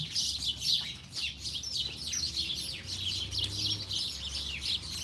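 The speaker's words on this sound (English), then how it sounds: "It's when the bird calls, you must listen." Birds chirp and tweet continuously, a busy chorus of high calls overlapping one another, fairly close, with a low hum underneath.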